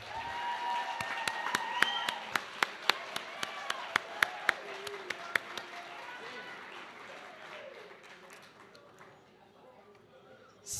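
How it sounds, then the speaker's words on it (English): Audience applause at a high school athletic banquet, a moderate crowd clapping steadily with a few loud, sharp individual claps standing out near the start, then thinning and fading over several seconds, heard from a middle distance in a hall. "can we give them another round of applause?"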